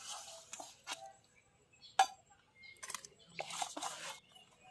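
Prawns dropped into a metal tiffin box for a steamed mustard prawn dish, giving a few short, sharp metallic clinks and clatters, with one bright clink standing out, set against quiet kitchen background.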